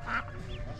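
A duck with a second brood of ducklings gives a short quack on a farmyard during hay season, faint and brief against a low rumble of background noise.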